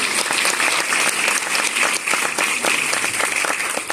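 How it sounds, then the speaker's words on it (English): Audience applause fills the room at a film festival panel for a fasting documentary, loud and sustained clapping from a crowd continuing evenly throughout. "Please give a round of applause to Professor Longo, who's here."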